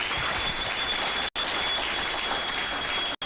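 A church congregation claps loudly and densely in sustained applause, cut briefly by two short gaps.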